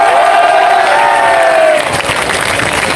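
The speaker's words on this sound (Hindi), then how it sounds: "मैं चाहूंगा कि आप एक बार अभिनय सर के लिए जोरदार तालियां बजाएं।" A large crowd of students at a protest cheers and shouts, with loud sustained whooping voices at first, then settling into dense applause and crowd noise, close and energetic.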